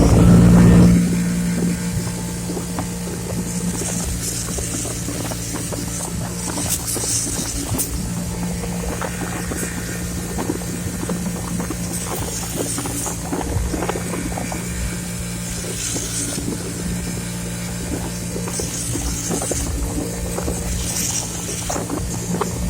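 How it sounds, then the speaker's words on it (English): A bench grinder fitted with a wire brush wheel grinds rust off old tools. Its motor holds a steady, loud drone, broken by intermittent bright scraping bursts, with a louder surge right at the start. "I'm gonna use a wire brush wheel and just go ahead and grind this off"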